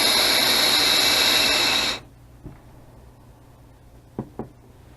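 A Smok SE1 vape device fires with a loud, steady hiss for two seconds that then cuts out abruptly, followed by a few faint clicks, heard up close.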